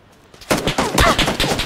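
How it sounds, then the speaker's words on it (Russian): Rapid bursts of gunfire in a PUBG battle royale match, a loud volley of several close shots in quick succession after a quieter moment. "по мне лупят откуда-то"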